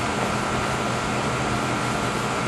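A one-year-old central air conditioning system running normally after maintenance gives off a steady, even whoosh of airflow and fan noise, constant and fairly quiet, with no voices.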